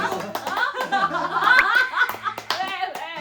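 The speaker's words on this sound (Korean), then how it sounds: "박수 한 번만 쳐줘." A few sharp hand claps ring out among voices speaking and chuckling close by.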